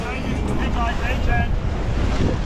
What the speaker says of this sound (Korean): 파도가 너무 세니까